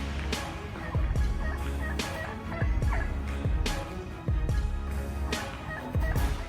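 Wild turkeys gobble in repeated loud bursts, several birds calling one after another over a steady low background, close and clear with no talk.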